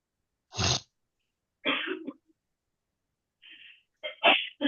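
A single sharp sneeze-like burst bursts out, then a few shorter throaty bursts follow after pauses, all close to the mic with no talking.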